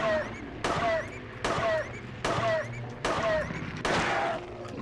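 Gunshots in a video game ring out as five loud, evenly spaced single reports, each with a sharp attack and a ringing tail, close and clear with some faint background noise.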